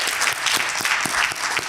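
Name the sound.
audience applause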